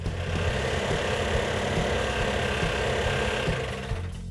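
A newly built 340 engine runs steadily at idle with a faint knock, a continuous close mechanical drone that holds constant before easing slightly at the end.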